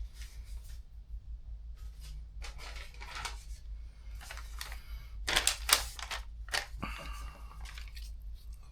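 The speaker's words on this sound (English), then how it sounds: "Got wrinkled paper, that's always hard to cut." Sharpened vintage pocket knife with patina slicing through wrinkled paper, giving several close, crisp rasping cuts and crinkles in quick bursts, loudest near the middle, with no talking.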